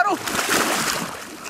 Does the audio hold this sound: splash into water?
yes